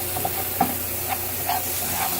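Butter and sugar get stirred around in a hot pan, a low steady sizzle with a few soft scraping strokes of the utensil, fairly quiet and without speech.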